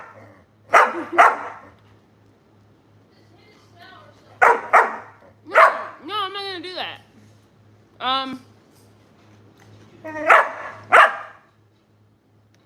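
A Doberman barks for food in a handful of short, loud bursts, spread in two clusters with pauses between them. Speech and a few whiny vocal sounds mix in.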